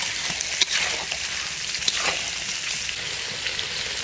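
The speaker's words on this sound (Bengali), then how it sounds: "গন্ডা চিংড়িগুলো ঢেলে দিচ্ছি।" Prawns in a hot pan of cooked-down spices for a prawn curry, giving a steady, even sizzle and fry with a few soft clinks and stirring knocks close by.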